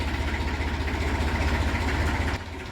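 A 1999 Massey Ferguson 245 DI tractor diesel engine idles steadily with a low rhythmic thump, close and loud, dropping slightly near the end; no talk.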